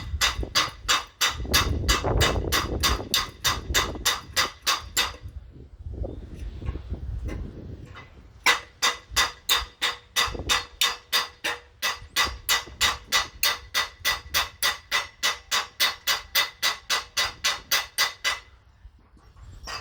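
A hammer smacks the back of a torque tube yoke to loosen it, landing loud, close metallic blows: a dense cluster at first, then a long, steady run of evenly spaced strikes.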